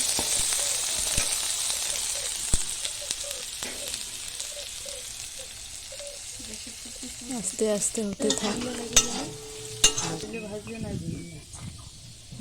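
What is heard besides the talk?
frying corn in oil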